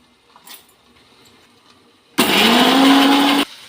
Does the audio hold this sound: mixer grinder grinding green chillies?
yes